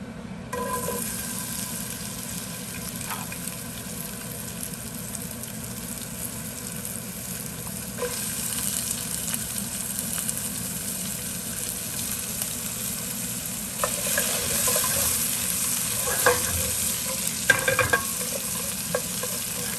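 Spices and onions fry in a pan for butter chicken. A low steady sizzle runs throughout, with occasional spatula scrapes and taps, and it grows a bit louder toward the end.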